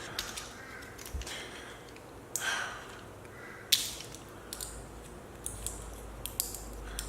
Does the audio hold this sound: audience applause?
no